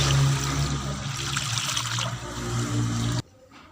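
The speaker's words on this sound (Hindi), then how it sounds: "शीरे के लिए इसमें डालेंगे 5 किलो तकरीबन पानी।" Roughly five kilos of water pours steadily into a pot over a wood fire to start sugar syrup for shakar pare, a continuous splashing gush that stops abruptly near the end.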